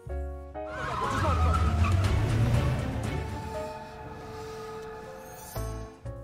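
A hijacked car pulls away and drives off, its engine rising loud and steady for several seconds before cutting out abruptly, with a brief squeal near the start and music tones layered over it.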